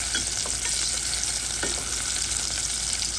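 A small onion fries in olive oil in a pot, giving a loud, continuous close-up sizzle with faint crackles and no break.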